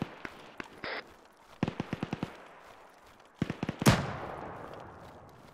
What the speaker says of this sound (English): Run towards the sound of the gunshots, Outlaw.